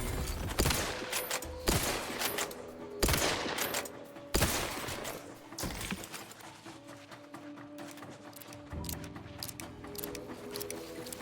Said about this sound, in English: The Gauss rifle. It's the science gun.